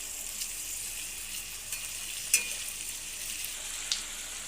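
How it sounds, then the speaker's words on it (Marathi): Onion and potato for a fenugreek-potato dish sauté in a pan with a steady, soft sizzle, broken by a couple of brief stirring clicks; no talking. "आता इथे कांदा बटाटा व्यवस्थित परतून झाला आहे"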